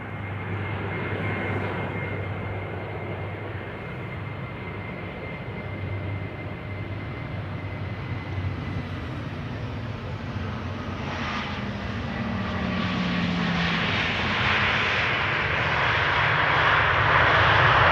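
An airliner departing from a runway at Amsterdam Schiphol Airport, a continuous roaring engine rumble building steadily louder as it throttles up toward the end, with no voices.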